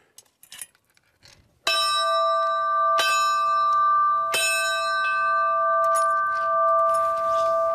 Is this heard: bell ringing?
yes